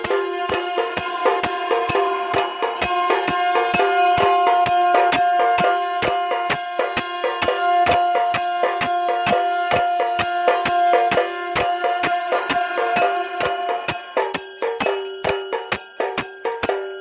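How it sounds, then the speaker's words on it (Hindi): A small low-power electric aarti machine sounds a sustained conch-like tone over a steady, rapid run of ringing bell strikes, loud and close, with no talking. "यहाँ से शंख का साउंड आएगा"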